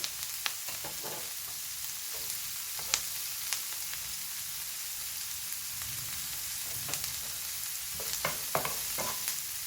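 Garlic sizzles in a pan for braised chicken, a steady crackling fry broken by sharp clicks and scrapes of stirring, close and unaccompanied by speech.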